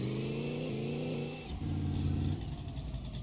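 Car engine revving hard in second gear on a chassis dyno in a garage, a loud sustained droning rev that climbs, drops sharply, then rises and falls again, heard alone.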